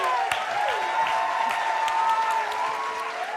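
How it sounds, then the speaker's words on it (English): Sustained applause from a live theatre audience greeting the improvising technical and camera team at a comedy show, steady and fairly full with a tonal musical bed running through it and no talk over it. "Please keep your applause going for our incredible improvising technical and camera team."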